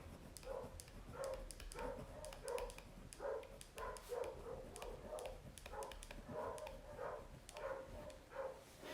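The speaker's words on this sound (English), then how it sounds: "If you can hear the dogs barking, that's because they always bark when the mailman comes" Dogs bark repeatedly at the mailman, a run of sharp woofs at a moderate distance that comes in irregular bursts over a faint background hiss.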